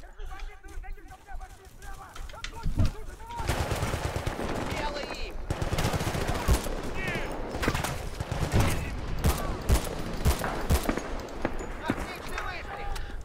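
In the video game Battlefield: Bad Company 2, rapid bursts of automatic gunfire crackle almost nonstop, with sharper single shots punctuating the din and occasional voices underneath.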